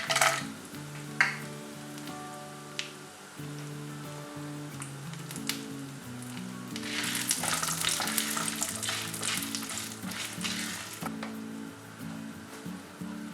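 Cashew nuts frying with urad dal and chana dal in oil, a close sizzle that swells into a dense crackling hiss partway through and then settles, heard under soft background music.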